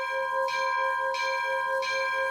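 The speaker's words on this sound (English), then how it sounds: "little lever that you have to pull towards you to activate the bell" A locomotive bell on a US-style Flying Scotsman engine in a train video game rings steadily, three evenly spaced clangs over a sustained ringing tone, clear and alone.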